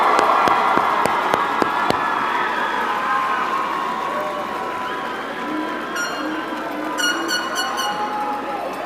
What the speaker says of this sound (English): Let's give all of our graduates one big round of applause